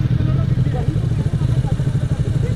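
KTM motorcycles ride in a Sunday group outing in Jammu, their engines giving a steady, loud, continuous low rumble that stays close throughout.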